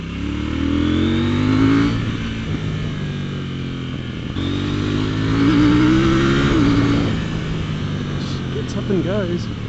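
KTM 790 Duke motorcycle engine pulling hard out of corners on roads around Lake Garda, Italy, rising and falling revs in two strong surges, loud and close with wind noise and someone talking over it.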